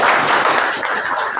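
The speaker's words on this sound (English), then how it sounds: "So you should clap together." Audience at a media-and-justice lecture in India clapping together, a dense steady wash of applause filling the whole moment without pause, fairly loud and close.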